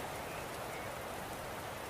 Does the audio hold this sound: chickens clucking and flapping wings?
no